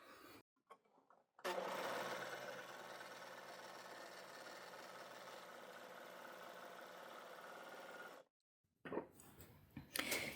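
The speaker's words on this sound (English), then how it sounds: "when I put it through the overlocker on the same settings as this cotton" An overlocker serger stitches lightweight lining fabric in one long steady run, with brief handling noises before and after.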